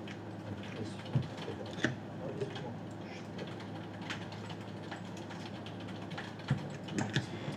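Quiet clicking of a computer keyboard as someone types a server path, light irregular keystrokes with a few sharper taps, faint and close.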